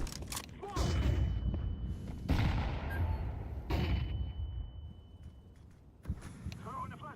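Flashbang and fire grenades going off in the video game Counter-Strike 2, a few sharp bursts and roaring blasts separated by brief gaps, one high steady ringing tone, and a voice over the top.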